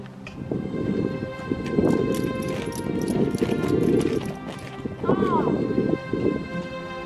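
Mule hooves clip-clop steadily at a barn, moving in a loose walking rhythm close by, with people talking over the footfalls throughout.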